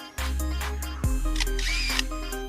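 A lyrebird imitates a camera shutter with close, crisp mechanical clicks and whirring bursts, fairly loud over a steady background of other bird notes.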